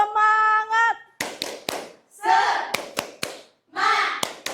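A group claps in sharp unison, a few quick loud claps separated by bursts of chanting voices, close and energetic.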